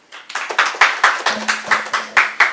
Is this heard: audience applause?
yes